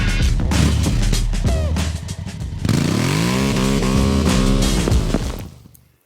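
A CFMoto 450 MT parallel-twin adventure motorcycle engine revving up through the gears, climbing pitch with a brief drop between shifts, loud and close, then fading away at the end.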